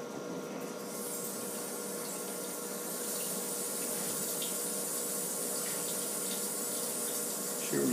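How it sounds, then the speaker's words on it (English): A sink faucet runs in a steady, hissing stream of water that stays constant and close for the whole stretch, with no talking over it. "Turn the sink on, too,"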